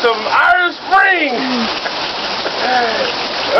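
Rain pours steadily during an outdoor shower, a close, even hiss of falling water with a voice talking over it in short bursts.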